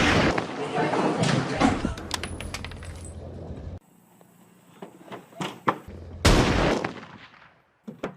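Sniper rifle shots in a D-Day World War II shooter game, sharp loud cracks among a busy mix of game gunfire and clatter, with a quieter stretch before a heavy burst near the end.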